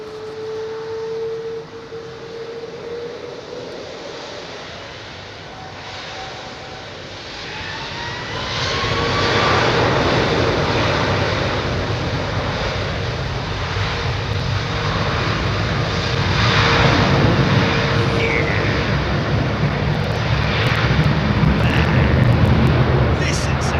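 A Boeing 777 with GE90 engines roars at London Heathrow, a broad jet rumble swelling louder and holding strong as it nears, with people talking over the engine noise.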